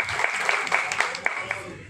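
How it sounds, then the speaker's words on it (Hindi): Applause from a live entertainment show audience, a brief burst of claps with regular sharp peaks, moderately faint and mixed with background voices. "एक बार जोरदार तालियां."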